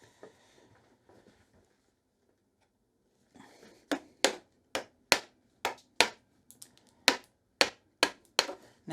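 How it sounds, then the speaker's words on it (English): A chisel is struck to chip out the edge of a half lap joint in wood with hand tools, first a few faint scrapes, then about a dozen sharp, close mallet-on-chisel knocks in an uneven rhythm. "I'm just going to chip this edge out, so when I'm chiseling from my side, it doesn't push this out of the way"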